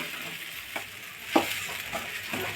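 Sabudana khichdi sautés in a pan with a low, steady sizzle while a spoon stirs it, scraping and tapping a few times at close range.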